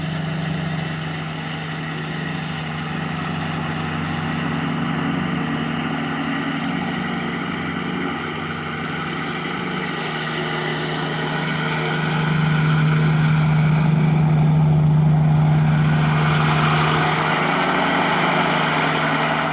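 A Kubota BX compact tractor mower runs steadily on hilly ground, its engine drone constant and close throughout, rising slightly in load for a few seconds before settling back.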